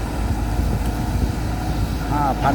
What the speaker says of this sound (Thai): ฟังเสียงเครื่องใกล้ๆหน่อย